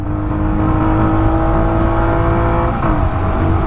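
A Jawa 42 motorcycle engine revs hard as it accelerates in third gear during a drag race against a Hunter 350, a loud, steady, close-up drone with no break.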